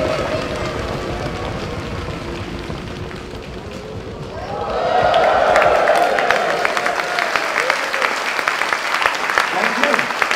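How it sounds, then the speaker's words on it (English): Audience drumming hands on their thighs at a fire-eating show, a dense rumbling patter that swells louder midway and keeps rolling steadily, crowd-like and continuous. "I want to hear the biggest, loudest drum roll of your lives on your thighs"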